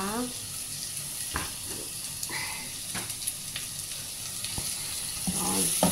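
Mushrooms fry and sizzle in a pan as they are stirred for a mushroom soup, a moderate hiss with scattered scraping and clinking of the utensil, alone without talk.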